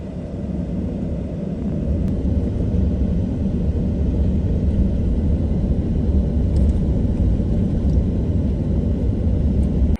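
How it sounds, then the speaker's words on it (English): Low, continuous rolling thunder over land under construction, a deep steady rumble that stays heavy and unbroken throughout with no voices. "You can hear the thunder."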